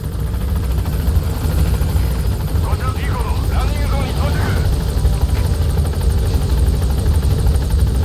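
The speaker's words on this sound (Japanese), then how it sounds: "ヘリ来たな。" Helicopter in Metal Gear Solid V gameplay, a steady loud rotor drone throughout with someone speaking over it in the middle.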